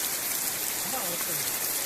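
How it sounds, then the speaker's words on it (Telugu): Constant rain hisses loudly and evenly, with a faint voice briefly heard underneath the downpour. "మొత్తం వర్షం పడుతుంది ఆడ"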